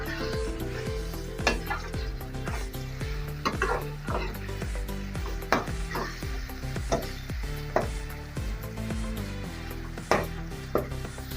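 Minced keema browning in a pan, stirred steadily with a spoon: a continuous sizzle under repeated scraping strokes and sharp utensil knocks against the pan at a regular rhythm, close and fairly loud, with no talking.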